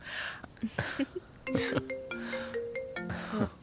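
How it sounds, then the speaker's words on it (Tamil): A phone ringtone plays a melodic run of chiming tones at moderate volume. Faint voices and room noise sit underneath it in a scene from a 2022 Tamil feature film. "ஃபோன் அடிக்குது."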